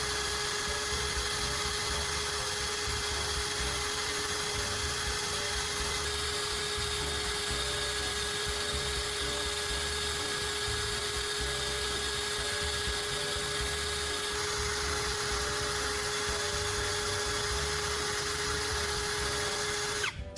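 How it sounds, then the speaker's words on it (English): An electric drill spins an abrasive against the blades of pruning shears, sharpening them with a steady, loud, high whine that barely changes for the whole stretch. "The power of the drill combined with the abrasive is really bringing these blades back to life."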